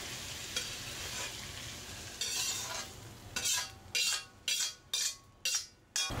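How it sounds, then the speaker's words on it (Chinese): Bullfrog with chili peppers, Chongqing-style, is stir-fried in a wok over high heat. A steady sizzle gives way to about six rhythmic bursts of tossing and scraping, loud and close, with no speech. "继续用大火稍许翻炒"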